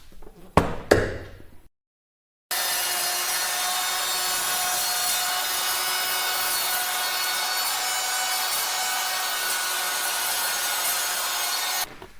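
A router with a bit cuts a lap edge into a wooden shiplap board for a mountain cabin wall, a steady loud whining grind holding for nearly ten seconds after a few short knocks and a brief silence.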